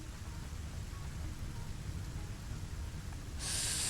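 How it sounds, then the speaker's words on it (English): Steady rain in the video game Satisfactory, a dense broadband hiss with low rumble running through the whole stretch, loud and unbroken, with a brighter high-pitched layer joining near the end. "The one bad thing about the rain is it is kind of loud in the mic."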